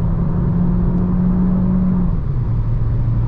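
Renault Clio E-Tech Hybrid 143 HP car accelerating at full throttle, a loud steady engine drone inside the cabin with a rising whine that dips briefly, as if shifting, under constant road rumble.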